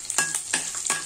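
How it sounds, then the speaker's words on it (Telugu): Mustard seeds, cumin, garlic cloves, dried red chilli and curry leaves fry in hot oil in a pan for a tempering. A steady crackling sizzle is broken by three quick bursts of stirring or spattering, close and fairly quiet. "ఇప్పుడు వీటిని కొంచెం ఫ్రై అవనిద్దాం"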